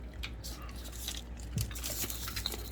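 Homemade matzah communion bread, a salted biscuit, snapped and crunched close up in a few sharp cracks with crumbly crackling, while people talk quietly nearby.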